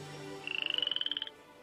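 A frog gives a short rapid trill of about fifteen evenly spaced pulses lasting under a second, close and fairly quiet, after a brief low hum, with no talking.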